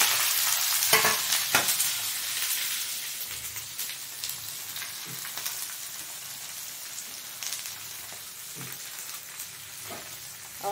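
Ivy gourd and onion sizzle and fry in a pan, with steady crackling broken by several distinct scraping stirs of a spoon, close and fairly loud throughout, no talking.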